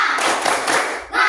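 A class of pupils performs a rhythmic group spirit clap, dense clapping near and loud throughout, with a brief dip before it resumes at the end.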